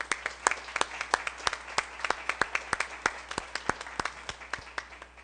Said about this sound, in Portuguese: façamos uma saudação ao pavilhão nacional com a salva de palmas.